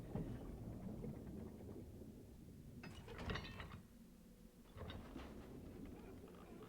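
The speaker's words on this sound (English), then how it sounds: "They start in with that thunder and that ambient music" Thunder rumbles in the opening of the video game Pokemon White 2, a low rolling roar with sharper crackling bursts in the middle, layered over ambient game audio.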